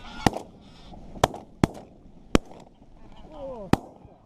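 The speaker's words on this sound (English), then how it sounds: "Shooting." Five sharp, loud shotgun blasts at irregular intervals during an inland goose hunt, with geese honking faintly in between.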